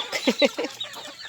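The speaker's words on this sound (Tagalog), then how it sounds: "si Aida, yun ang nag-alaga sa mga mga ano manok." A chicken clucks in a quick run of short, close notes, then trails off into quieter sounds.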